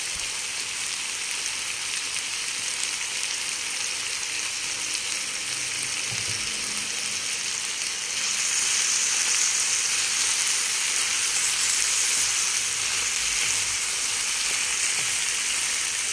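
Soy sauce and a little tomato ketchup go into a hot pan of nearly fried ingredients, with a continuous loud sizzle and hiss that swells noticeably about halfway through as the liquid hits, no voices.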